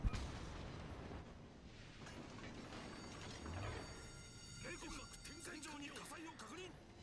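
Torpedo hits land on a ship in World of Warships, a run of deep booming impacts and crashing explosions over continuous battle noise, with someone talking throughout.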